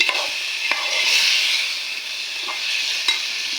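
Snails stir-fry in a pan with a loud, bright, continuous sizzle close up, broken by a few sharp clicks and taps of a spatula as they are tossed.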